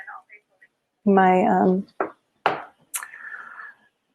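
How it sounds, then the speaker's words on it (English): Facebook notification alert sounding from a phone: a sharp electronic ping followed by a short sustained tone, coming after brief bursts of speech. "my Facebook window on my phone started blaring"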